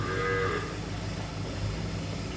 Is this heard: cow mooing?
yes